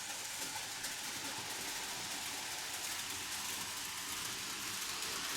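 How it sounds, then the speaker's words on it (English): Märklin 3082 DB BR41 model locomotive with a new smoke unit, pulling a long rake of metal-chassis wagons, giving a steady close rolling rumble and hiss with no pauses. "It's a nice long train."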